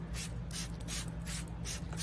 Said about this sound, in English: you get a spray bottle and you fill it with just regular water